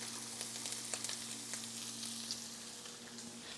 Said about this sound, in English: it's time to go ahead and get our garlic added and start getting a nice char on our garlic.